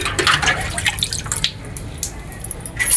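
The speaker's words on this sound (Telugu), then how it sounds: "నేనైతే ప్రతిరోజు గిన్నెలు కడుక్కుంటాను." Water runs and drips while dishes are washed at home, with close splashes and clinks that fade to a quieter trickle before picking up again.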